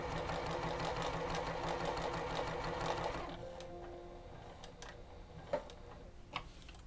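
Sewing machine stitching a fabric pencil case runs in a fast, steady mechanical whir for about three seconds, then stops, leaving a quiet room with a few faint clicks and taps.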